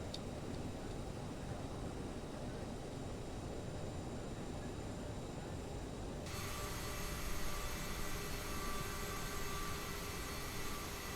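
Jet engines of a CRJ 700 in Microsoft Flight Simulator 2020, a steady low rumble with a whining hum that shifts character midway, moderately loud with no voices.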